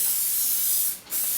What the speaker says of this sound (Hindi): I am using a working here spray, I am not using a finishing spray.